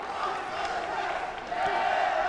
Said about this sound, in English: The crowd really starting to get into the boxing this afternoon.